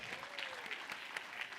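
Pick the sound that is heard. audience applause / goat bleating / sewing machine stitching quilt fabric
audience applause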